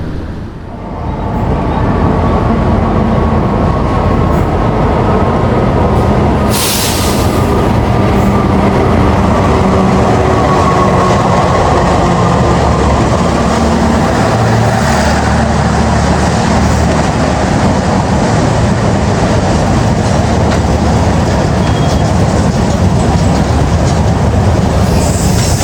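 The KA Kamandaka New Generation passenger train on its first run out of Semarang gives a loud, steady rumble with rail clatter and faint squeals throughout, heard up close with no talk.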